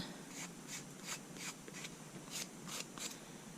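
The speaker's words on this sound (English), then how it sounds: "basically just go back and forth. It's kind of like filing your nails. That's why I like using this little file." A small hand file rubs back and forth over the rough edges of a pen, giving a series of about eight short, quiet rasping strokes in a loose steady rhythm, close by with no voices.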